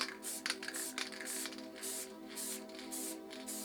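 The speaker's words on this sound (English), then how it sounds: "So now with the black, we'll fill the rest of the background in black." A Dope Supreme spray paint can spraying black paint around a stencil, a close hissing spray in repeated short bursts and longer pulls, with rattly texture and no talk.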